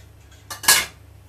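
Cooking pots clatter on a stove in one short metallic burst of clanks, close and fairly loud, over a quiet kitchen background.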